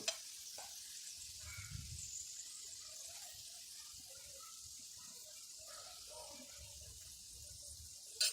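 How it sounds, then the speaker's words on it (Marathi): Steady broadband sizzle of hot tempering oil poured over spices on a plate for mango pickle, a continuous crackling hiss with a few faint clinks, no voices. "ही गरम गरम फोडणी आपल्याला आपण जे मसाले घेतलेले आहे ताटामध्ये त्यावर घालून घ्यायचे आहे"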